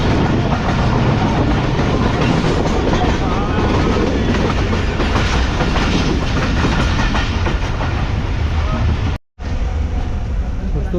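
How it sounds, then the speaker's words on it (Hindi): A passenger train on the Karachi to Rawalpindi route in Pakistan runs on rails as it approaches a junction station, with a loud, steady rumble and rhythmic clickety-clack of wagons throughout. The sound briefly drops out near the end, and a voice may be faintly present. "हमारी ट्रेन जो है वो अप्रोच बना रही है परीदन जंक्शन रेलवे स्टेशन पर"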